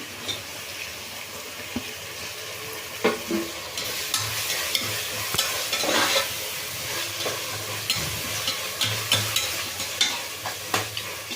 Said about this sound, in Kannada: ಟೊಮೆಟೊ ಸ್ವಲ್ಪ ಚೆಂದ ಫ್ರೈ ಆಗಲಿ ಎಣ್ಣೆಯಲ್ಲಿ